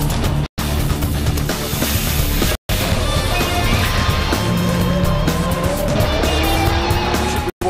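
Porsche Carrera Cup race cars running hard on a racing circuit, engines loud and roaring continuously with a hint of tire squeal, broken by a few abrupt silent cuts.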